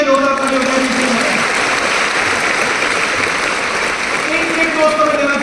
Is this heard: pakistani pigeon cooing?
no